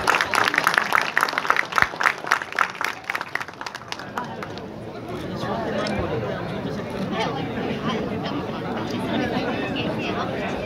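Students being honoured at an award ceremony at GL Bajaj Institute in Noida, with brisk, rhythmic audience clapping for about four seconds that then fades into steady crowd chatter and murmuring voices.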